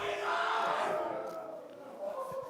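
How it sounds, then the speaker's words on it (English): A crowd at a poker tournament cheers and roars, a broad swell of shouting that peaks early and then tapers off slightly. "As the crowd goes absolutely ballistic."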